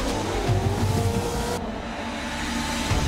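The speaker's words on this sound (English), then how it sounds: "Both trucks side by side, down at the starting line, one truck will take off" Loud, roaring engines of off-road race trucks launching side by side from the starting line on snow at Red Bull Frozen Rush, a dense continuous rumble that shifts abruptly midway.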